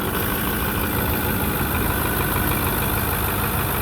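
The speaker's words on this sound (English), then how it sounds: "Engine sounds good." A 2010 Ford F250 Super Duty with the 6.4 turbo diesel idles with the hood open, a steady close engine rumble and clatter that holds even for the whole stretch.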